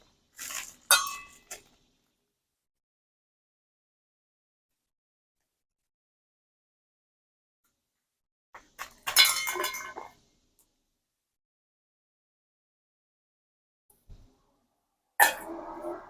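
Small steel bowls used for mixing potting soil during plant repotting, clinking in three short, separated bursts amid long stretches of near silence.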